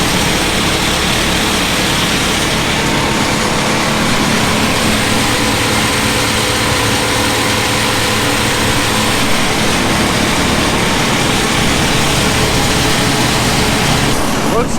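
A 1990s forage harvester chopper engine running close by, a loud, dense, unbroken roar with a deep low drone and broadband rushing noise that stays even throughout.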